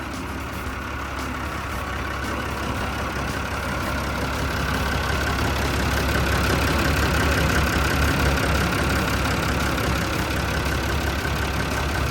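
Isuzu 6BD1 diesel engine idling in a Dynapac R20B rubber-tyred road roller: a steady, loud, close rumble with an even low throb, unchanged for the full length and with no talk over it.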